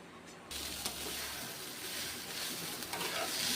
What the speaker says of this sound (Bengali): চাউমিনটাকে খুব ভালো করে নেড়ে নেব।